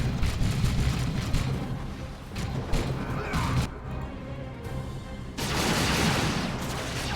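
Artillery barrage in the real-time strategy game Dawn of War 2, loud booming blasts and crashing impacts arriving in several clustered waves with brief lulls between, ending in a sustained rumbling volley.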